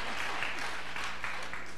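A church congregation clapping during a closing service, a brief continuous burst of many hands with a few louder individual claps, steady and moderately loud.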